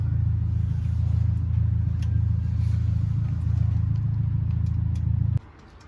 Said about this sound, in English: That's someone that decides to drive around with no rear box on a VW Beetle.